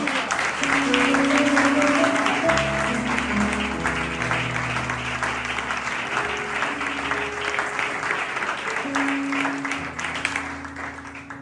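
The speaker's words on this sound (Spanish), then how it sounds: "La recibimos con un aplauso, por favor" A church congregation applauds warmly after a sermon reading, with steady clapping heard alongside sustained organ or keyboard chords and faint voices.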